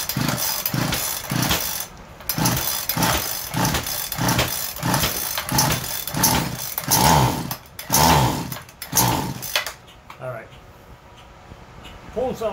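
A small 26cc weed trimmer engine is pull-started by hand: a run of rhythmic recoil-cord pulls, each a short rough burst, with a brief sputtering catch before it dies away.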